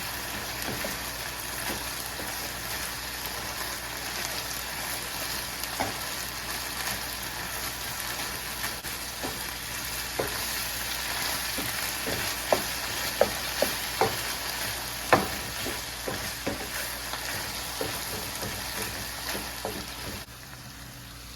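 Holy basil and spring onion being stir-fried for Thai pad kaprao: a steady, close sizzle runs throughout, with sharp spatula clacks against the pan clustering in the second half. No talking.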